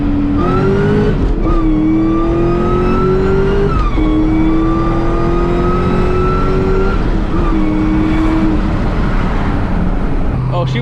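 A Cobra with a WOT box and two-step fitted accelerates hard through the gears from third into fourth, its loud engine note climbing and dropping at each shift, with voices talking over it.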